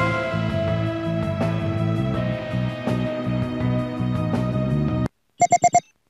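A phone ringtone from the Mystic Messenger video game plays as a melodic tune for about five seconds, then stops, followed by four short, bright electronic beeps.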